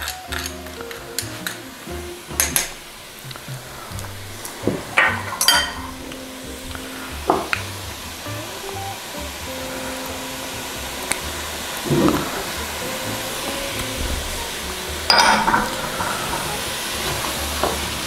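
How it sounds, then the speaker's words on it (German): Tomato paste and garlic roasting in a pan for ragù alla Bolognese: a soft, steady sizzle with scattered clinks and scrapes of a utensil against the pan, and no talking. "Tomatenmark rösten wir auch mit an und natürlich Knoblauch."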